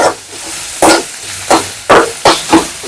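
Onion and curry leaves fry in a pan, with a low sizzle under four or five sharp, close stirring scrapes at roughly even intervals and no talking.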